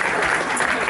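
A concert crowd at a performance in Köln claps in a thick, even wash, loud and sustained throughout.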